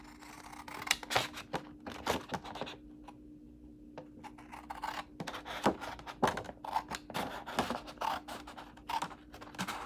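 Paper cut down the middle with scissors gives a quiet run of crisp snips and rustling scrapes, clustered in irregular bursts with brief pauses and no speech.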